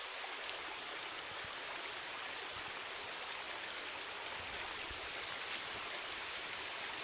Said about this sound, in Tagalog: Dalawa po itong sapa dito mga kasaka.